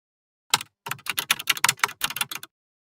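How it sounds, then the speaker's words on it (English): Fingers typing a folder name on a computer keyboard, a quick burst of crisp, close key clicks in an uneven rhythm after a short silence. "Type a clear name, for example, 3D Projects, and press Enter"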